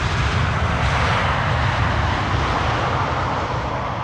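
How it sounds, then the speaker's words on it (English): A Delta airliner taxiing at Amsterdam Schiphol Airport gives a steady, loud engine roar with a low rumble, unbroken for the whole stretch and with no voices. "And the Delta, indeed, as we could see, has gotten clearance to taxi."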